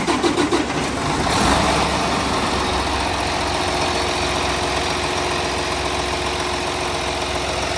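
A vehicle engine cranks on its self-starter, catches after about a second, then settles into a steady, loud, close idle with no one speaking.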